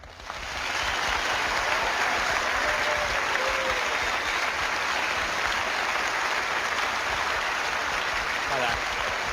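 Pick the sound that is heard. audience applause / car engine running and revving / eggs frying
audience applause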